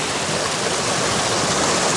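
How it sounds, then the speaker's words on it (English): Adams Creek, a mountain creek on a trail, rushes and babbles steadily and loudly close by, a dense continuous wash of flowing water with no other sounds. "This is Adams Creek, by the way."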